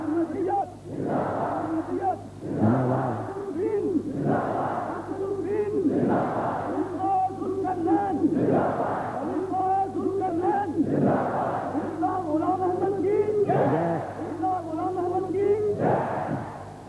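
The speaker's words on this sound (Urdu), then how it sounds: "اب لگ گئے نعرے" Large crowd at an outdoor religious gathering, the 1981 annual convention in Rabwah, chanting slogans in loud rhythmic unison bursts that rise and fall steadily for the whole stretch, with a leading voice calling between responses.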